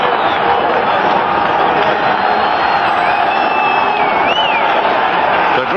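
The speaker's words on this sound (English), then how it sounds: "this tremendous emotional crowd here at Shea Stadium" A huge stadium crowd at a 1981 Green Bay Packers versus New York Jets football game at Shea Stadium roars in a loud, continuous wash of cheering, with a few whistles rising above it.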